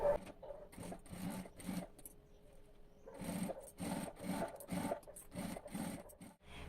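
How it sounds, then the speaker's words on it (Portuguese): A sewing machine stitching a seam joining two halves of a fabric bag, running in repeated short rhythmic bursts with brief pauses, including a longer gap before a steady run resumes, close and moderately loud. "Aí você vai passar essa costura e vai fazer a mesma coisa nessa outra metade aqui"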